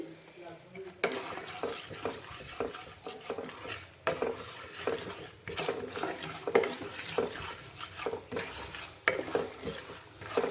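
Dals and mustard seeds frying in a pan over medium flame while being stirred, a continuous sizzle broken by repeated scrapes and clinks of the spoon against metal at irregular intervals.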